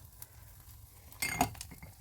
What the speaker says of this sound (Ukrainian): Ложечка і на сковорідку.